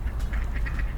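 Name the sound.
ducks quacking while being fed bread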